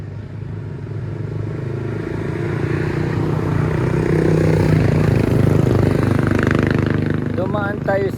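A small carbureted motorcycle engine without fuel injection runs steadily on a ride along Marilaque, its hum swelling slightly midway, with a voice talking over it.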